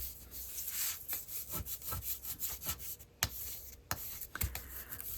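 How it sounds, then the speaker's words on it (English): Cardboard being flattened by hand for a journaling background, giving steady dry rubbing and scraping strokes with a few sharper creases and taps, close and fairly quiet, with no voices. "I want to flatten the cardboard because it will likely be used for journaling"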